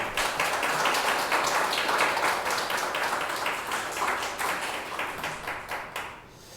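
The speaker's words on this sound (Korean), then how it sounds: "하나님께 감사와 영광의 박수 올려드리겠습니다." A church congregation applauds together, a dense run of many hands clapping at close range that holds steady for several seconds and then tapers off.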